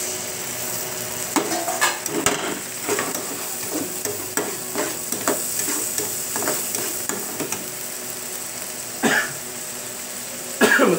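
Garlic and fish marinade frying in a pan for a butter garlic red snapper dish, a steady sizzle with scraping stirs and a few coughs and throat clearings over it.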